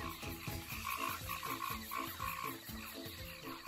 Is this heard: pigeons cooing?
no